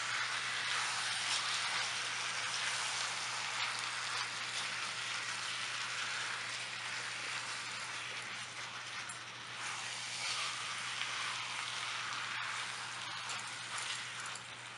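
Minced keema frying on high heat with tomato for daal keema, a continuous soft crackling hiss like light rain, steady and fairly faint throughout with a low hum beneath and no voices.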